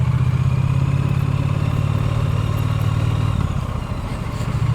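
A Triumph Bonneville motorcycle engine running on a tubeless-converted bike, a loud steady low rumble that shifts near the end as the throttle changes, with no talking.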